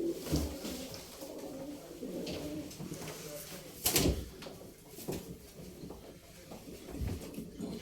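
Pigeons coo softly and repeatedly, mixed with rustling and bumps nearby, with a person's voice faintly in the background.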